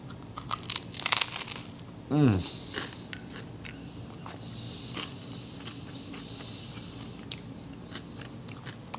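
Frozen blueberries are bitten and crunched during a taste test, with a few sharp, close crunches early on and a short voiced sound right after, then quieter chewing.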